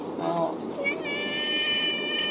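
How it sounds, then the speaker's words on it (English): A house cat meows in a short drawn-out call near the microphone, following brief background voices, amid toy blaster unboxing. "Hey, my cat."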